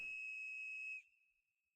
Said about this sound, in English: a clear, high-pitched sound like a whistle echoed nearby